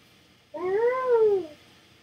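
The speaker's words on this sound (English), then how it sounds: "I thought I heard a meow." A single drawn-out video game cat meow, close and clear, rising then falling in pitch over a quiet background.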